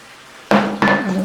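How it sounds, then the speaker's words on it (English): A utensil stirs a skillet cabbage roll mixture with added spices in a single pan, giving two loud, close metallic clanks against the pan, each ringing briefly and trailing into a scraping rustle, with no talk. "Give this a really good stir."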